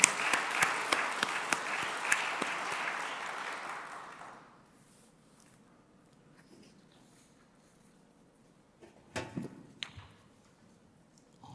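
A church congregation applauds at a Sunday evening baptism service, a loud burst of clapping that fades out after about four seconds, followed by near silence and a few faint knocks.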